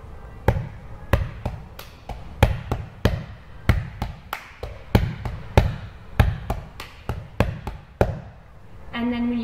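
A slowed-down wrestling tryout cheer: sharp hand claps and swipes in a steady rhythmic pattern, loud and close, with a voice briefly starting at the end.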